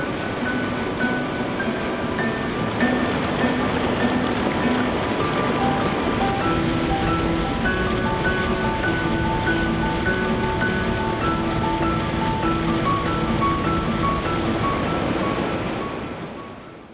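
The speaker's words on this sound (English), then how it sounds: "the ever-present white noise of nearby streams rushing over rocky creek beds" Stream rushing over a rocky creek bed in the snowy western Oregon mountains, a loud, steady white-noise rush that runs continuously, with thin bird calls threading through it before it fades at the end.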